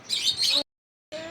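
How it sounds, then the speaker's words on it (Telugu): Lovebirds at a zoo in Oman chirping in quick, busy bursts: a dense run of twittering, a short silence, then more calls resuming close by. "లవ్ బర్డ్స్ అంట, లవ్ బర్డ్స్ అంట."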